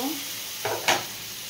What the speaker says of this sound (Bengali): এবার আমি গরম জল দিয়ে দেব মটনের মধ্যে